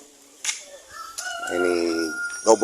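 Chickens on a farm, a rooster crowing once in a clear drawn-out call with short clucks and bird calls around it, close and moderately loud.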